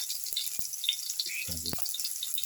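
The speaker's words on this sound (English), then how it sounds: "Once the mustard seeds start popping" Mustard seeds pop in hot oil, a constant bright sizzle with scattered tiny crackles, with a brief voice heard underneath.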